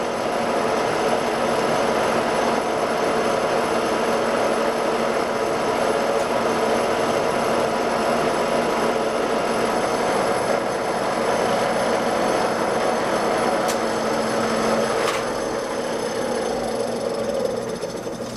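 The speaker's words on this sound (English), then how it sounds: "Putting a pretty good load on the machine." A metal lathe with a diamond tool holder takes a heavy cut, producing a loud, continuous grinding roar with a steady rumble and faint high squeal that hold unbroken until they ease near the end.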